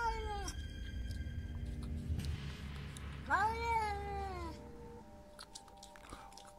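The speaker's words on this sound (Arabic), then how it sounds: "سمعت نونوة القطة بصوت مستفز جدا" A cat meows insistently, a long drawn-out whining meow followed by a shorter one, close and clear against a quiet room.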